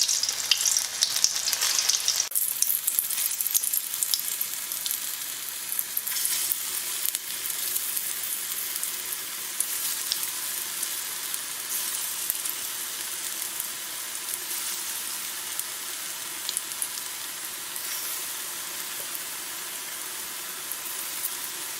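Flattened chickpea patties fry in a pan over medium heat. A steady, close sizzle crackles continuously throughout, with a brief louder burst near the start.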